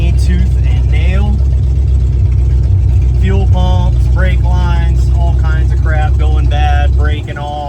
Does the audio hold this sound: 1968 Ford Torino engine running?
yes